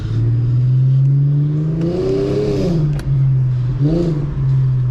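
An Infiniti G37 accelerates hard in first gear at night, the engine note climbing steadily and loudly, dipping briefly at a shift-like break before rising again, close and continuous.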